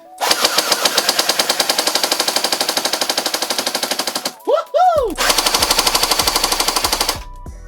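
An A&K MK43 airsoft gun fires at about 12 rounds per second in two long, loud, rapid bursts of evenly spaced shots, separated by a brief pause holding a few short tonal sweeps.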